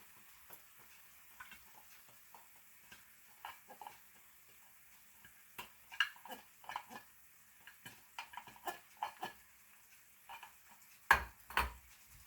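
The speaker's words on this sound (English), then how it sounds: "So now I'm going to stir in an 8-ounce can of tomato sauce." An 8-ounce can of tomato sauce stirred into a cooking pot; a quiet, close-up scatter of soft spoon scrapes and light clinks, with faint sizzling and one louder knock near the end, and no talk.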